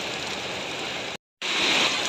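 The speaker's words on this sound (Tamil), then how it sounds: "பாருங்கள் மழை எப்படின்ட்டு" Heavy rain pours in Kuwait with a dense, steady hiss, broken by a sudden short silence before resuming slightly louder.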